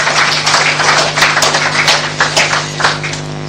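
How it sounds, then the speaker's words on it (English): An audience at a police chief's swearing-in ceremony gives a round of applause, a dense burst of clapping that rises and thins unevenly over a few seconds, steady hum beneath. "Another round of applause,"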